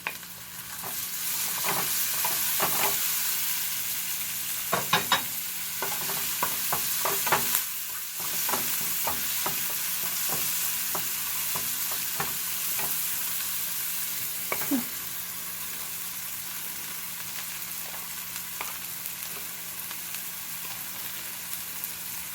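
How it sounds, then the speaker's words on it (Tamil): Tomatoes sizzle and hiss steadily in a hot pan while being sautéed for a South Indian crab fry, with a spoon scraping and clicking against the pan at irregular intervals, close and continuous, no voices. "இப்போ தக்காளியும் போட்டு சேர்த்து வதக்கிக்கலாம்"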